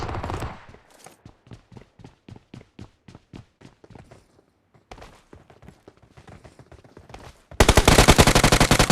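Rapid bursts of SMG gunfire in the BGMI battle royale game ring out as a steady string of evenly spaced shots, close and punchy, before a louder, denser burst of fire takes over at the end.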